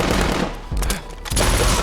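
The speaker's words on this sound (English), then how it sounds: "look at the bullets just flying" Dense action-film gunfire from The Accountant rattles in loud automatic bursts, a brief lull, then another sustained volley of shots.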